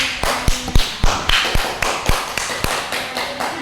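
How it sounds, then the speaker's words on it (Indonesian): Classroom applause during a microteaching lesson on the Quran, heard as a steady run of sharp, evenly spaced claps or taps, fairly close and loud, with no voices over them. "beri aplaus untuk"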